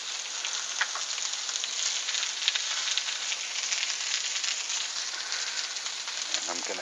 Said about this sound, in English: I'm going to add the onions. I'm going to add the ginger.